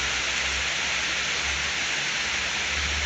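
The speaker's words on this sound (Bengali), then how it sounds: "গাছের নিচে পানি পড়ে ফোড়া ফোড়া" Rain pouring down around a tree and dripping through its leaves, a dense, unbroken hiss that stays loud and close throughout with no voices.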